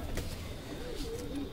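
A domestic pigeon from a hobbyist's flock gives a short rolling coo near the end, close by, over constant background noise.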